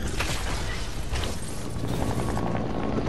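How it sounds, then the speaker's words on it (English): A helicopter in a shooter video game churns loud and continuous, its rotor roar dense and close with mechanical rattling, filling the whole moment without speech. "Helicopter's coming back?"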